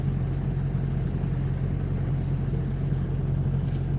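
A truck engine idles close by with a steady, continuous low rumble that holds unchanged throughout, with no voices.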